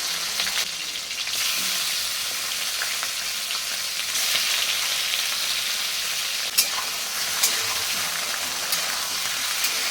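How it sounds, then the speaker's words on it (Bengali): Hilsa fish head and a few prawns fry in hot oil, giving a dense, steady sizzle that fills the whole stretch with a couple of small sharp pops and no talk. "তেল গরম হয়ে গেছে। ইলিশ মাছের মাথা আর কটা চিংড়ি মাছ দেবো।"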